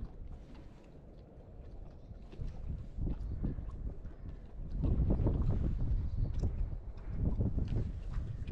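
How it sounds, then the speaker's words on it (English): Strong gusty wind buffeting the microphone beside a river, a loud, rumbling, uneven roar that swells and fades in bursts with no speech. "This wind's horrible."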